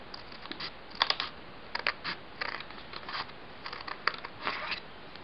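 Scissors snip through a piece of paper folded in two for a homemade anemometer, a series of quiet, close, irregular crisp cuts and rustles over faint background hiss.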